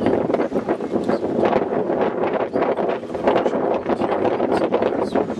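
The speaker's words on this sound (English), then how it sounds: "see the wind blowing by here as well" Wind blowing at the seaside town of St Ives in Cornwall: continuous loud buffeting and rumbling against the microphone, with no voices.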